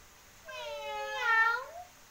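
A single drawn-out meow, a voice imitating a cat, rising and falling over about a second and a half.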